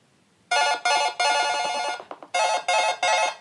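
A phone alarm ringtone rings loud and close in repeated electronic bursts, several long tones broken by short gaps and a brief stutter midway.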